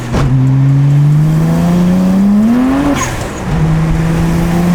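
BMW 335i with the N54 engine accelerating hard without anti-lag, a loud, close engine note climbing steadily through the gear, then a brief dip at the shift before pulling again.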